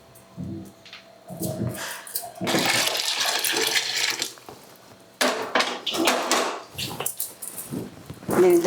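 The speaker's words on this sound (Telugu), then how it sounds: "నేను ఇందులో వేడి నీళ్ళు పోసేసుకుంటున్నాను." Hot water poured over fresh cut pieces in a home kitchen, a steady gushing splash running for a few seconds, pausing, then pouring again close by, with light knocks of the vessel between pours.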